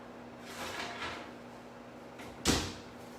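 An oven door in a home kitchen is opened to take out a baked pie crust, with a soft creak early on and then a single short, fairly loud clunk over a steady background hum.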